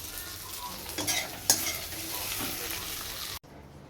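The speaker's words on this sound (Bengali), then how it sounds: "আলুটা ভেজে এই আদা জিরে বাটা যে মশলাটা রেডি করে রেখেছিলাম সেটা দিয়ে কষানো হচ্ছে" Fried potatoes are sautéed with a ground ginger-cumin paste in a pan, giving a steady sizzle with spoon scrapes and stirring clatter. It stops abruptly near the end, and no one speaks.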